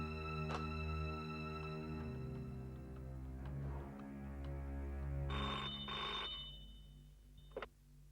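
An electronic telephone ring chimes in short repeated bursts, moderately loud, over a low steady background, with no talking.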